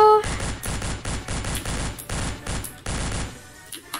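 Rapid bursts of machine gun fire in the video game Madness Deathwish 2, several loud, dense volleys in quick succession, close and dominant.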